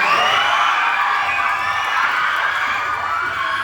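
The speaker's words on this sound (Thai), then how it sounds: "แฟนๆส่งเสียงกรี๊ดกันมาได้ให้ดังที่สุดเลย" A dense wall of high-pitched screaming and cheering from a large crowd of fans at a contestant introduction event, loud and sustained throughout.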